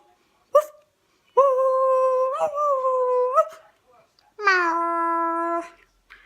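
A human voice imitates a wolf howl in two long, sustained, wavering calls separated by a brief pause, loud and close, with a short vocal yelp just before the first.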